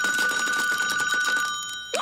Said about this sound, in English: Wait, that's the phone.